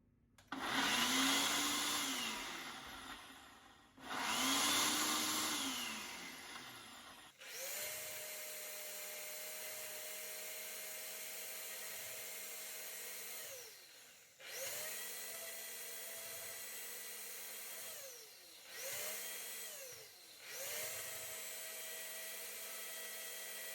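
A blender whirs loudly through a batch of vegan aioli, running in several long bursts with a steady motor whine and brief pauses and pitch dips between pulses.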